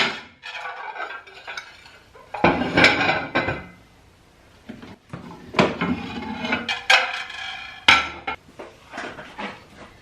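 Ceramic plates and dishes being handled and stacked during a home kitchen cleaning session, with irregular clinks and clatters, several sharp knocks, and quieter rustling in between, close by with no talk.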